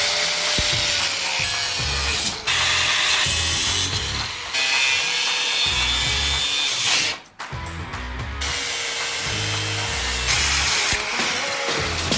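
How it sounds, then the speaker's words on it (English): A saw cuts off the top bar of an old lawn trailer during a restoration, giving a near, rhythmic rasping of back-and-forth strokes with a brief pause partway through. "So now I'm just gonna kind of cut this top bar off."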